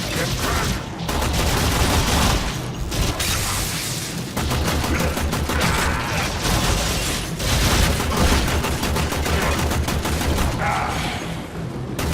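Dense, continuous gunfire from several weapons in the Warframe video game, rapid overlapping shots and booms at steady high loudness throughout.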